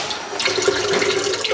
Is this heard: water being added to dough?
yes